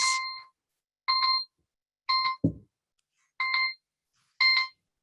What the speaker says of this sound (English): Was that your timer? It was.